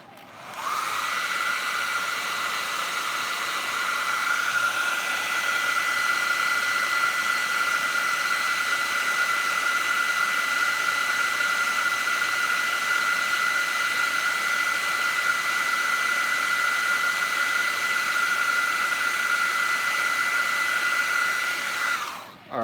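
A heat gun blows steadily while heating an action figure part, a constant close whooshing hum with a high whine that runs unbroken for over twenty seconds before cutting off, with no talking.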